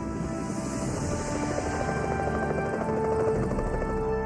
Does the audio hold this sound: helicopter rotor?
yes